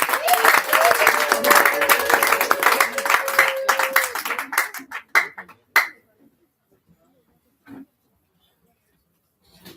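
Audience applause at the closing ceremony of the NDAZI project, a dense burst of clapping from a crowd that thins into a few scattered claps and then falls silent.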